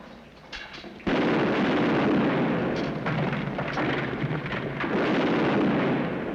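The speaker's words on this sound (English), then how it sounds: "That gunfire came from straight ahead." Sustained, loud gunfire rumbles on after a quieter start, with dense rapid bursts and booms blending into a continuous roar with no voices.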